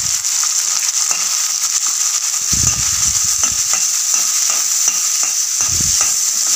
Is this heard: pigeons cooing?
no